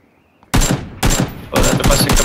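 Three loud bursts of rapid gunfire, each cut off sharply, with a brief pause between volleys and no talking.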